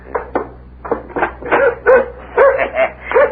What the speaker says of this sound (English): He's a nice dog.